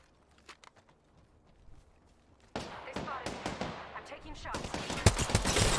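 Rapid gunfire from a Scout rifle in an Apex Legends tournament match, quiet scattered shots at first, then a loud, dense burst of repeated cracks and impacts building toward the end.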